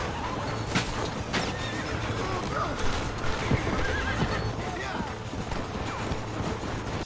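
A horse whinnies and its hooves clip-clop in Red Dead Redemption, with galloping hoofbeats and a loud neigh amid a busy outdoor game mix.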